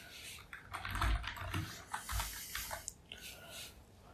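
Quiet clicks of typing code on a computer keyboard in a small Windows setup session, a few soft irregular keystrokes and bursts close by, faint and alone without speech.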